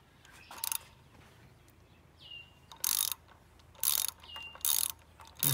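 A ratchet with an extension and a 5/8 deep socket working a spark plug loose on a 3.2L V6 Acura or Honda engine, four sharp bursts of rapid clicking, close and loud, separated by brief pauses with faint squeaks.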